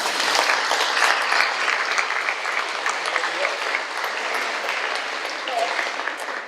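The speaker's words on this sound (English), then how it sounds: "Give yourselves a big round of applause." Seniors and parents at a high school senior night break into warm, steady applause as they congratulate themselves. The crowd's clapping stays loud and dense throughout before fading slightly at the end.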